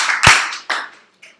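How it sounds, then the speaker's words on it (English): A room of people claps hands in a brief, slightly scattered pair of claps, close and loud, with a faint trailing clap afterward. "Clap your hands twice if you can hear my voice."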